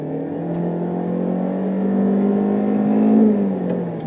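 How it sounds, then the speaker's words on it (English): A 2019 Kia Forte's engine revs steadily upward as it is floored from a stop, a droning tone climbing in pitch with a brief gear-like dip near the end. "So when you floor it from a stop"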